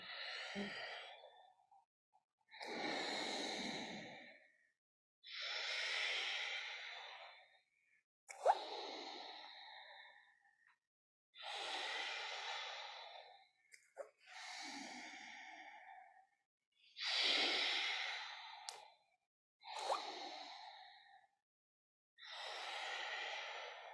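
Slow yoga breathing paced to shoulder-focused movement: long, loud, airy inhales and exhales in an even rhythm of about nine breaths, each separated by brief silence, close and alone with no talking.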